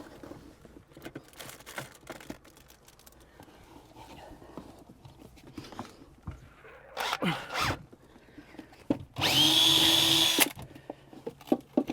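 A power drill whines loudly in two bursts, a shorter one and then a steady stretch, drilling a hole during caravan modifications, amid quieter handling and tool noises.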